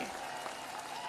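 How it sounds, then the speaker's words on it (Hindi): Dense crowd clapping at an outdoor political rally in Barabanki, a loud continuous wash of many hands held up and beating together, heard briefly. "एक बार जरा दोनों हाथ ऊपर करके जरा तालियां बजा दीजिए जोर से"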